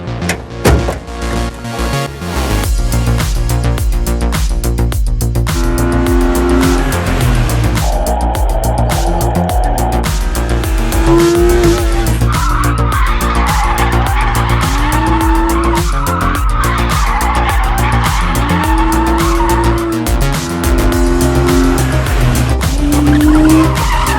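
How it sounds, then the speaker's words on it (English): BMW E36 drift car sliding through a drift session, its engine roaring loud and steady while tires skid and squeal in long repeated bursts, with no talk. "Will you show me some drifts?"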